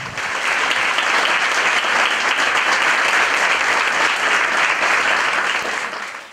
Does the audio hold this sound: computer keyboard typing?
no